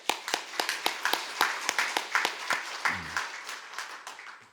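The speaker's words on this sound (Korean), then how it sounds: "그러면서 박수 한번 치겠습니다." A church congregation claps together in a quick, steady rhythm of sharp, close claps that slowly loosens and fades toward the end.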